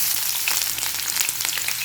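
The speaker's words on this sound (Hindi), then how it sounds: "अब हम इसमें बघार लगाएंगे।" Loud, crackling sizzle of cumin, mustard seeds, garlic, curry leaves and red chili hitting hot oil for tempering, continuous spitting and popping throughout with no talking.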